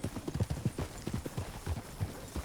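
Horse hooves clip-clop in Red Dead Redemption 2, a steady, rhythmic walking gait of close, muffled thuds repeating evenly throughout, with no voices.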